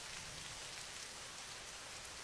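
Faint, steady rain patters down in an even hiss with no thunder or voices.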